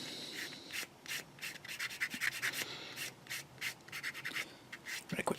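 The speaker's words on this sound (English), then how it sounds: "Let's get a sanding stick on that one." Sanding stick rubbed across a plastic part of a 1/35 scale Takom Chieftain Mk10 tank model, close, soft rhythmic rasping strokes repeating steadily with brief pauses, no talk.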